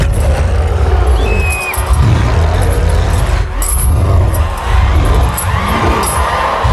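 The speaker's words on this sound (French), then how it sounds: "faire un tonnerre d'applaudissements et d'accueillir la bête immonde" A live comedy-show crowd cheers and roars as a performer is welcomed onstage, a dense, loud wash of voices and whoops filling the whole stretch without letup.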